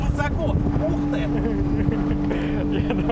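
An amphibious GAZ-24 Volga fitted with twin 250-horsepower V6 engines speeds across choppy water, a loud, close, steady engine drone mixed with wind buffeting and splashing, with voices talking over it.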